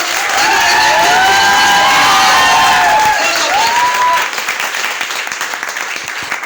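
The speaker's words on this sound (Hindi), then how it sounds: "टीसी सर के लिए एक बार जोरदार ताली" Loud applause and cheering from an audience at an RCM business meeting in India, a dense wash of clapping with raised voices that thins and tapers toward the end.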